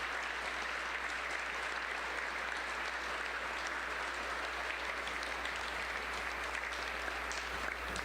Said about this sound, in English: And I'd like to give them all a big round of applause.